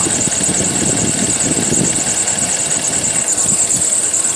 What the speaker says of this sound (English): So we have this problem with our misfiring going on with our ignition coils